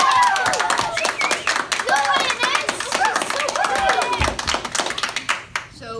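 A group of voice actors imitate an excited crowd cheering for a Wizard of Oz animation, overlapping shouts and whoops with some clapping, loud and close, ending in a brief trailing-off.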